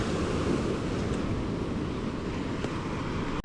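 Ocean surf washes onto a beach in a steady, dense roar, mixed with buffeting wind noise on the microphone, close and constant until a brief drop at the end.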